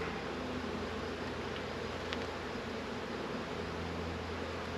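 Honey bees on a hive frame buzz in a steady, dense, close drone that holds at an even level throughout, with no talking.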